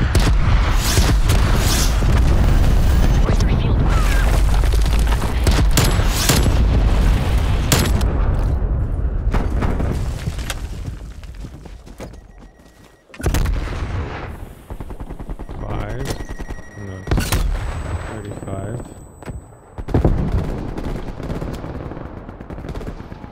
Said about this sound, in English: Missile launch detected.